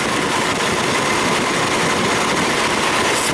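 A 2003 Mazda Protege engine with a misfire idles close up, giving a loud, steady, dense rumbling hiss throughout. No distinct individual snaps stand out.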